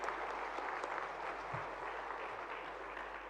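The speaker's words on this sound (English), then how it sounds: "I think we need a round of applause to encourage these winners on stage" Dense, continuous applause from a large audience at a Bandhan Bank foundation-day awards event, a steady wash of clapping for winners on stage, fairly distant and unbroken throughout.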